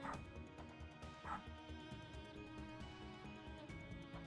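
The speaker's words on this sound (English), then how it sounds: "Excuse the barking." Several dogs barking and yipping nearby, with repeated sharp barks and whimpers over a steady background of music.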